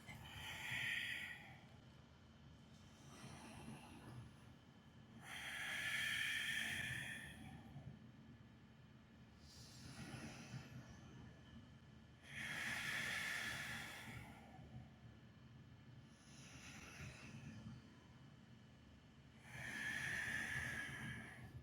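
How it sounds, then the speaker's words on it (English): Slow, audible yoga breathing during an Ashtanga practice: long hissing inhales and exhales come in steady cycles about every six to seven seconds, close and fairly soft, with no speech. "Breathe."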